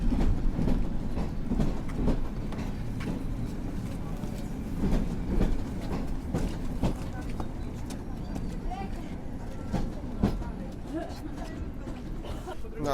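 Marszałek Piłsudski passenger train pulling out of Warszawa Zachodnia station in snowy weather, a steady close rumble of wheels and rolling stock with intermittent clatter and station ambience, with voices nearby.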